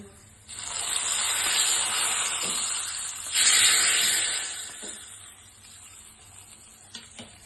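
A loud burst of hissing sizzle as a hot oil tempering is poured over taro-leaf curry, swelling twice, then gradually dying down to a faint crackle.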